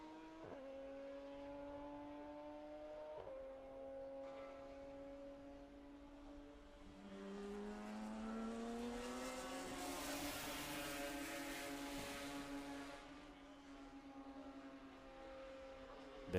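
Race cars lap the Road America circuit, with engines whining and shifting gears as several cars pass and one swells louder before fading, heard from trackside with no talk.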